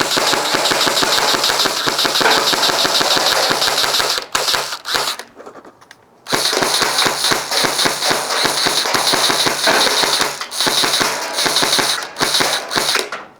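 A Nerf GelFire Uproar gel blaster fires on full auto in a steady, loud rapid rattle of shots, breaking off briefly in the middle with a short pause before the burst resumes and runs on to the end.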